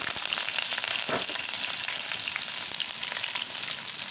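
Cumin seeds, green chillies and curry leaves crackle and sizzle in hot oil, a dense, even frying hiss throughout with no voices.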